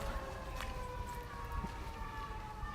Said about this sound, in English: Sounds like ambulance or fire truck coming through.